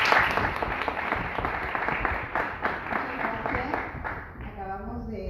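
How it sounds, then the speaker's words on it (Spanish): Sustained audience applause for Lena at an evening presentation event, broad steady clapping that thins toward the end as a voice begins speaking. "Les pido un aplauso para Lena."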